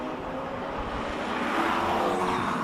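Classic March 77B race car at a hillclimb, its engine a steady, dense roar that swells slightly louder as it draws nearer, heard alone without talk.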